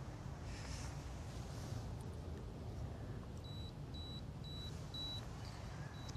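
A DSLR camera's self-timer beeps through a night long-exposure setup, about five short, evenly spaced high beeps in the second half over a steady low background hum.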